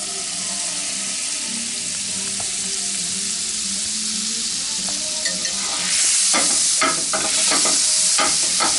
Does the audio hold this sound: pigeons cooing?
no